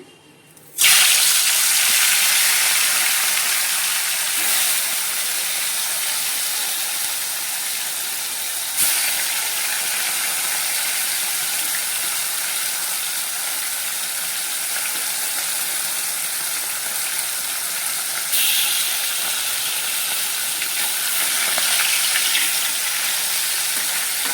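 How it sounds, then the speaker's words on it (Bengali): Hilsa fish pieces fry in hot oil for sorshe ilish, giving a loud, steady sizzle and hiss that starts abruptly and holds throughout, with a few brief surges and no voices. "তেলটা গরম হয়ে গেছে, মাছগুলো দিয়ে দিচ্ছি"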